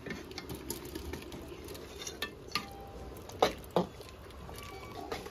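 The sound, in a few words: fried vegetables added to pot, stirring and sizzling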